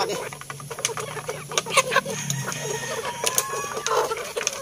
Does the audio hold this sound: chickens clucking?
yes